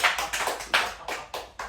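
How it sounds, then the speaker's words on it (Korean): A few people clap in quick uneven bursts, close and fairly loud, with short pauses between volleys during a K-pop group's European tour stop in Budapest. "박수!"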